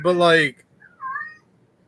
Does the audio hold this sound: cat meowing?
yes